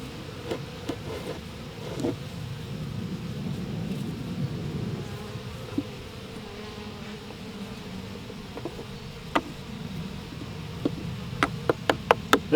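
Honey bees buzz around the narrowed entrance of a weaker hive. Their droning hum stays constant and close, with a scatter of small knocks and clicks that grows toward the end.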